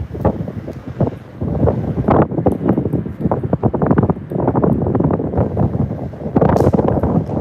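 Wind buffeting a microphone on a cruise ship deck sailing away from Southampton, in loud irregular gusts and thumps close to the mic.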